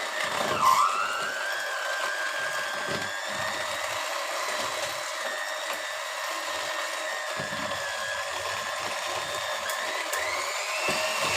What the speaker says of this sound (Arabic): هنضرب بقى بالمضرب